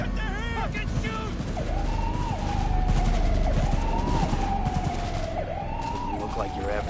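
Rapid gunfire crackles in Cyberpunk 2077, bursts of shots layered over a wailing police siren, with people shouting in the scene.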